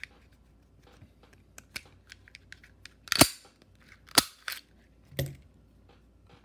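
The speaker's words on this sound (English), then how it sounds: "let's break this gun down." A Springfield Armory Hellcat pistol is taken apart, giving sharp metallic clicks and snaps, with three loud distinct clacks of slide and parts separating among lighter ticks, close up and with no talk.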